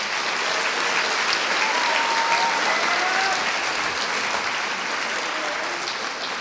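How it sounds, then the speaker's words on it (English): Steady, dense applause from a large audience at a high school commencement ceremony, sustained at an even level throughout with only a slight fade at the end. "give all of these wonderful organizations and people a huge round of applause"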